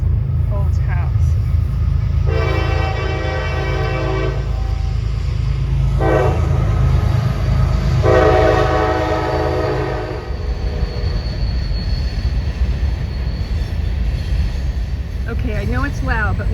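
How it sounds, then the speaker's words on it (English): A train rumbles past steadily while its horn blasts several times in long and short bursts, loud and close, with a bird chirping near the end. "Here's my train. I love that train. You could hear it from my parents' old house."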